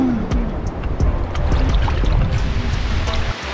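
Small ocean waves wash gently onto a beach at Anse Lazio in the Seychelles, a steady close sloshing and hiss of water with low rumbling surf throughout.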